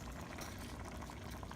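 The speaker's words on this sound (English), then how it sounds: "let's simmer this for the next 3 minutes" Goat meat stew for kalderetang kambing simmering in a pot, a steady close bubbling and popping that holds evenly throughout with no voices.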